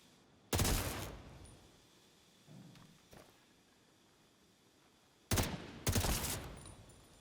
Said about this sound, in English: There are then 2 additional yellow boxes to shoot here in order to open the gate